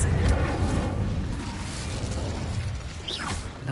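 The fire spell Incendio is cast in a Harry Potter video game, giving a loud burst and whoosh of flame with a rumbling, crackling roar that fades over a few seconds.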